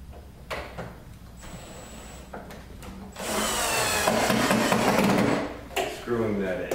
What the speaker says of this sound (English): Screwing that in and put our last screw into place.